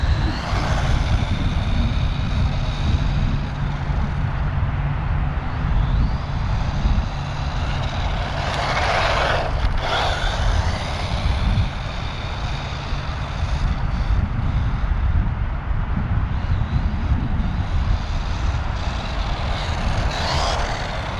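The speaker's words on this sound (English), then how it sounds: "Some running footage of the DEERC 302E four-wheel drive." DEERC 302E 1/18 scale four-wheel-drive RC monster truck running on dusty ground, a steady loud whine and rumble of the electric motor with wheel and dirt noise throughout.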